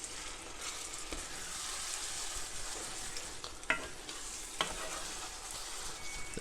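Steady sizzling and bubbling of Cajun chicken sauce piquante in a hot pan, continuous and fairly loud, with a couple of sharp clinks partway through.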